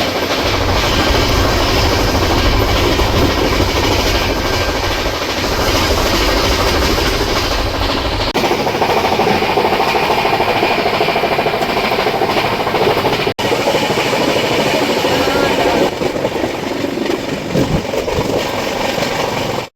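A moving passenger train on the journey from Chiplun to Ujjain gives a loud, continuous rumble and rattle heard from inside the coach, its tone shifting slightly partway through, with no voices.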